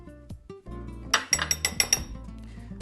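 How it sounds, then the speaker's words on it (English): A spoon scoops mayonnaise into tuna in a bowl, giving a quick series of close clinks and taps against the dish, heard alone with no talking. "I'm gonna take my nice clean spoon and add in the mayo to the tuna"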